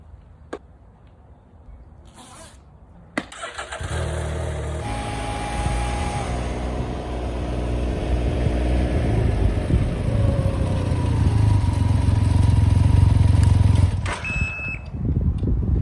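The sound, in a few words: Can-Am Ryker three-wheeled motorcycle starting and riding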